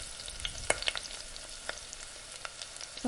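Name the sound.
onions frying in a pan for biryani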